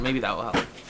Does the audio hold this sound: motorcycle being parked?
no